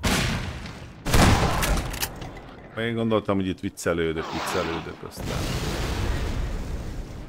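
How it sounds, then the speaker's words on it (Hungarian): Gunfire and explosions in the video game Half-Life 2: Lost Coast, a loud blast followed by scattered shots, partly under someone talking, then a rumbling burst and a sustained noisy roar. "Honnan jönnek ezek a lövések?"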